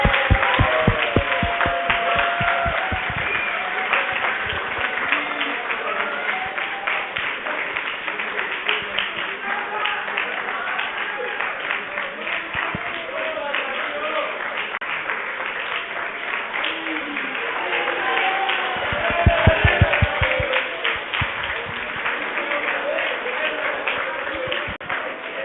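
Audience at a lecture on harassment applauding a guest prosecutor: sustained, dense clapping from a room full of people, steady throughout with a brief swell near the end, heard from within the crowd.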